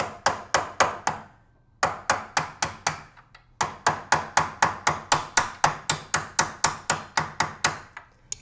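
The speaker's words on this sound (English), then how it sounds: "The last bit of the hinge pin you can tap with a hammer." Steel hammer tapping a hinge pin into a rolled hinge on a leaf vacuum assembly, bursts of quick, sharp metallic strikes in rapid regular runs with brief pauses between, close and clear with no talking.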